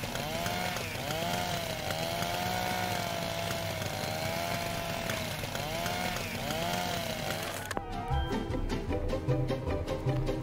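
Chainsaw in the video game Little Inferno, a loud revving drone with rising and falling pitch sweeps that cuts off abruptly near the end, followed by clattering game sounds.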